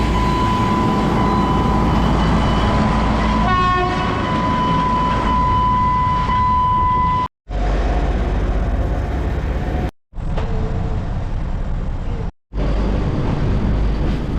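Diesel locomotives, Renfe and General Electric units, pass on a railway line in San José, Costa Rica, with a loud, steady engine roar and wheel rumble, plus a sustained horn tone, cut by a few brief silent gaps.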